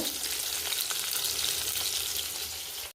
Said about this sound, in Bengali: মাছটা ভাজতে দিয়েছি।